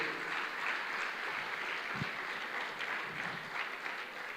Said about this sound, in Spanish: Alguien que lo crea, dele un fuerte aplauso al Dios del cielo.